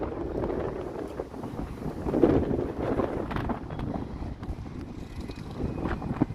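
Strong gusty wind roars and buffets the microphone continuously in Derry, Northern Ireland, after recent rain, with faint distant background noise and no one speaking.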